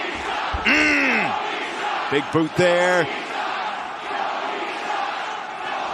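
Rhode Island wrestling crowd at a Ring of Honor show reacting to Tony Nese with loud chanting bursts and a big collective cheer, while a commentator talks over the arena noise.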